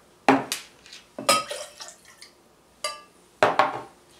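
Lime juice and simple syrup poured into a cocktail shaker for a Pisco Sour, heard as four short close splashing pours with light clinks of glass and metal, each quickly fading into a quiet room.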